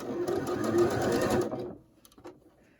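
A sewing machine stitches quilt fabric in a steady close whir for about a second and a half, then stops, leaving faint handling noises.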